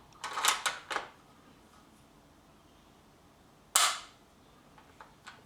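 Bolt of a Voere 2155 rifle in .270 being cycled, cocking on opening: a quick cluster of sharp metallic clacks, a pause, then one louder snap, with faint clicks trailing after, close and dry in a quiet room.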